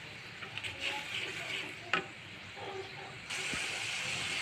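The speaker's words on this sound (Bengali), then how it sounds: "এই যে আমার পেঁয়াজটা মশলা কষানো হয়ে গেছে" Onion and spice masala frying in a pan for an egg curry, a faint steady sizzle with occasional stirring scrapes and one sharp clink, quiet and close.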